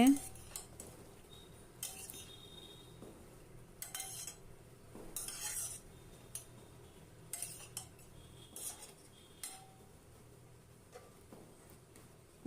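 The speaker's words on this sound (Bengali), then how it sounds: "কাঁচা লঙ্কাটা ভালো করে মিশিয়ে দিচ্ছি বাঁধাকপির সাথে" A spoon clinks and scrapes against a pot as cabbage is stirred with chopped green chilli, light irregular metallic taps spread through a quiet kitchen.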